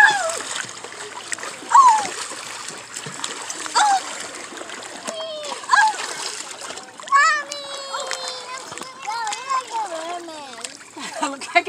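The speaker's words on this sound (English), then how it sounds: "She's having fun down splashing Grandma." Child splashing water in a backyard swimming pool, with uneven bursts of splashing and dripping water under a steady run of voices from the child and nearby adults.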